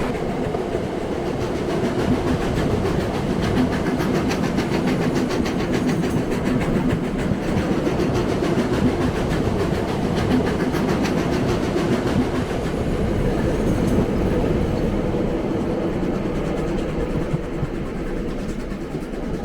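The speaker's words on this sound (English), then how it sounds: "there's nothing like an historic train trip through the Marlborough region." Steady rumble of a historic train rolling along the tracks through the Marlborough region of New Zealand, with continuous rhythmic clatter of wheels on rails, loud and close throughout.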